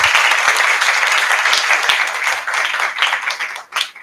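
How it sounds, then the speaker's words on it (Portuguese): A crowd applauds steadily for a few seconds, dense clapping that tapers off slightly at the end. "Uma salva de palmas para eles."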